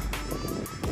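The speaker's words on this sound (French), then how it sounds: "Et par contre, excusez-moi pour le vent," Strong, cold wind buffets the microphone outdoors during metal detecting, a loud continuous roar with gusty surges and no voices.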